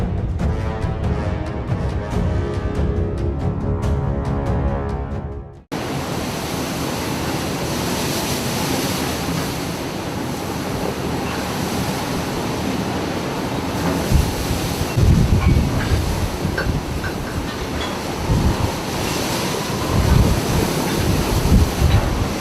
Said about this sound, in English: A small fishing boat passes powerful waves near the rocks.